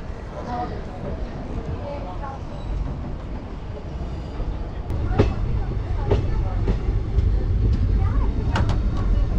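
A special passenger train departs Bhatkal railway station, a low rumble that grows louder and mixes with a series of rail clicks and clunks. A person speaks over it.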